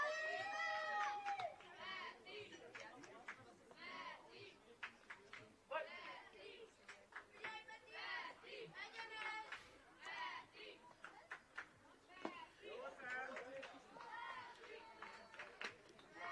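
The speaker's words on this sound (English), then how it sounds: "You can really hear the Hungarian bench cheering their teammates on" Young players on the Hungarian bench at an under-12 European Championship baseball game against Austria shout and cheer their teammates, a lively mix of overlapping calls and yells at moderate distance, with a commentator speaking over it.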